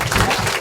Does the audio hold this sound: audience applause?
yes